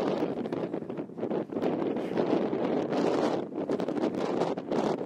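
Strong March wind buffets the Appalachian Trail near Overmountain Shelter, roaring in uneven gusts that batter the microphone with a continuous loud rushing.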